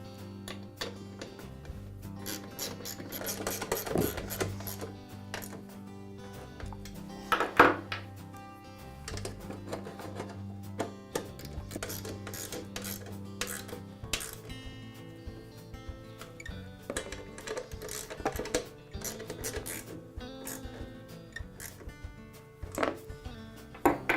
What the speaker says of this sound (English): And now I'll go ahead and tighten all of the screws.